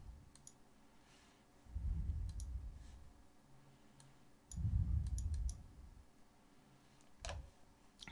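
Sparse, quiet computer mouse clicks while working in Daz Studio 3D software, a few sharp single and double clicks spread out over low, muffled room rumble.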